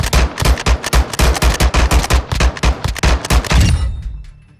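A fast-firing secondary gun in Modern Warfare 2 letting off a rapid burst of about twenty loud, evenly spaced shots, then a fading echoing tail as the firing stops.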